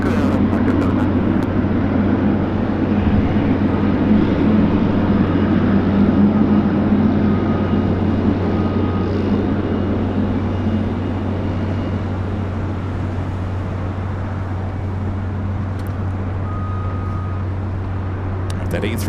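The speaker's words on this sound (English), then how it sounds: "That A350-900 in the Team USA livery, which we have not seen here, I believe" An Airbus A350-900 jet in Team USA livery at Los Angeles International Airport gives a steady, continuous low engine rumble that holds at an even, fairly loud level with no sharp changes.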